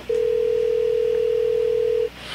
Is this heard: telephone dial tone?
yes